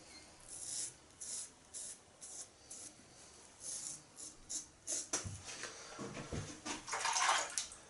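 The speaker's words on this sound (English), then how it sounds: "It does say to wet the face before applying the gel, so I'll do that for the second pass." Before a wet shave, water is splashed and rubbed onto a face in a steady series of soft, close, rhythmic wet swishes, growing busier and louder toward the end.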